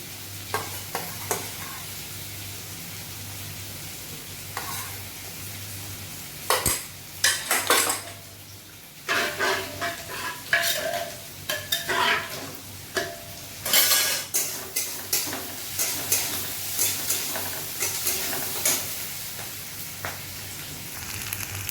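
Onions frying in ghee in a pan for khichuri, stirred with a utensil: scraping and clinking of metal on the pot come in bursts over a steady low sizzle, close and fairly loud, with no talking.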